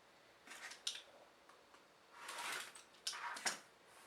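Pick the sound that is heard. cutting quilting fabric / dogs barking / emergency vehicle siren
cutting quilting fabric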